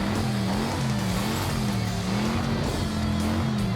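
Monster trucks, Bigfoot among them, race head to head in a competition, their engines a loud, continuous wavering roar with dense mechanical noise and no pause.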